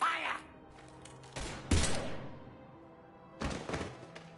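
Gunfire erupts in Mass Effect Legendary Edition, a few heavy thudding bursts spaced across the moment with quieter gaps between, set against game ambience and scattered voices.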